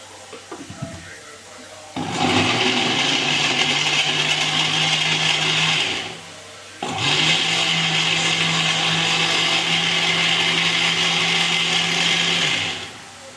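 A kitchen blender grinds ingredients with added water for juice. It runs in two loud, steady bursts of about four and six seconds, with a short gap between them.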